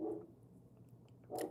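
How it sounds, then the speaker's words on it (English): A neighbor's dog barks at a distance, two faint muffled barks separated by a pause, set against low background noise. "that's not my dog, by the way, that's my neighbor's dog, if y'all hear it"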